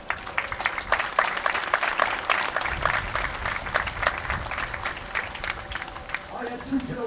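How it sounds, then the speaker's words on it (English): Audience applause at a state Legion softball opening ceremony, a broad steady wash of clapping from a crowd that carries on for several seconds, with voices mixed in around it. "you can give yourselves a round of applause because you deserve it"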